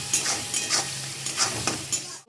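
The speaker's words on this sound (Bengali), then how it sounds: "পেঁয়াজটা ভাজা হয়ে গেছে" Chopped onions frying in a pan, a steady close sizzle with a handful of spoon stirs scraping through it before it cuts off.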